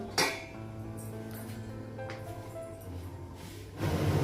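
Metal pot lid set down over tomatoes cooking in a home kitchen, a quick clink near the start followed by quieter light taps and a low background hum.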